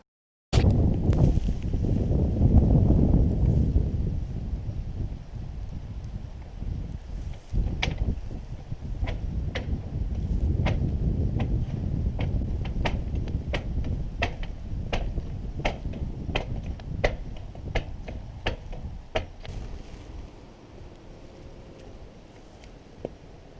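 Strong gusts buffet a roof during metal roof installation, a loud, rushing wind roar that swells and eases, with a string of sharp, regular clicks and taps through the second half.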